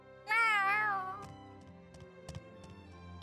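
In Tales of Arise, a cat gives one clear, drawn-out meow close by, rising and falling over about a second. Quiet ambient game sounds with faint clicks follow.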